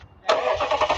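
A 2010 Lexus LS460 V8 engine cranking and catching after a short quiet lead-in, settling into a smooth, steady idle, close and fairly loud.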